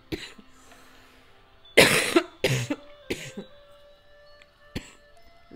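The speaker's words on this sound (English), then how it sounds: "I'm coughing so much." A burst of several harsh coughs close to the mic, followed by a softer cough and quiet breathing.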